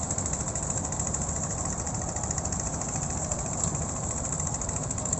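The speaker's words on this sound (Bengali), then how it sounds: "ট্রলার, ছোট ছোট নৌকা সিরিয়ালে যাচ্ছে" Trawlers and small boats pass in a line at Bholaganj Sada Pathar in Sylhet, their engines making a steady, continuous low rumbling drone with no pauses and no talk.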